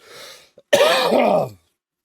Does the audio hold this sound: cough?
yes